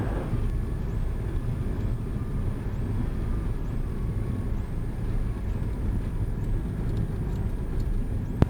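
A Cessna Skyhawk rolls out after a soft-field style landing on a canyon airstrip, its steady engine and propeller drone filling the cabin continuously with faint periodic whines above it.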